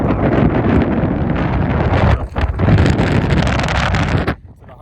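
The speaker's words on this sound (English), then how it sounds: "This is extremely windy." Strong gusting wind roars across the microphone on a mountain peak, loud and buffeting, then drops off sharply near the end.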